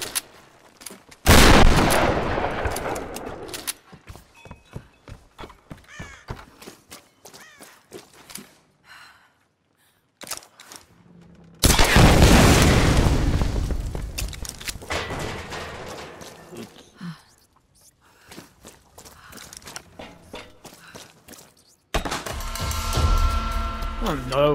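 Shotgun fight in the Tomb Raider video game: repeated sharp gunshot blasts in bursts with thuds and scattered impacts, loud bangs clustering at the start and midway, with quieter stretches between.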